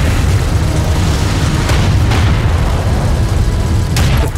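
A command carrier under fire in Homeworld: Deserts of Kharak, with a loud, dense rumble of combat and repeated booming explosions, a few sharper cracks standing out near the start and close to the end.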